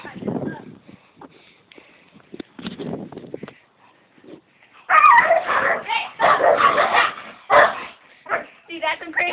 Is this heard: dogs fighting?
yes